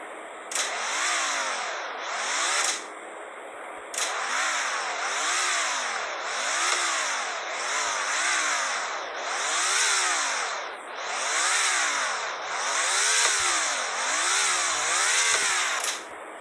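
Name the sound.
Chevrolet Camaro NASCAR engine revving in Car Dealership Tycoon video game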